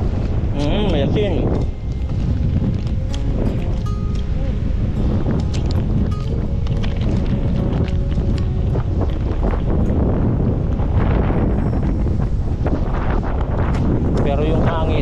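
Gusty wind pounds the microphone on an exposed mountain road between Bangued, Abra and Nueva Era, Ilocos Sur, a dense, steady low roar filling the whole stretch while people speak beneath it.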